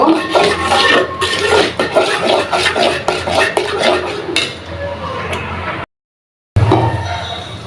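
Mango jelly mixture cooking in a pot, stirred with a utensil that clinks and scrapes against the metal in steady repeated strokes, close and fairly loud, with a brief silent gap near the end.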